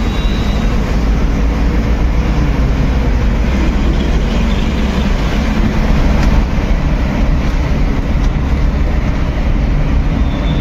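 Steady, loud low rumble of a moving train on the Srinagar to Jammu line, continuous rolling noise with no pauses throughout.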